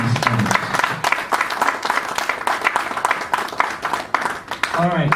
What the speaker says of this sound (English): Another round of applause for Ogachi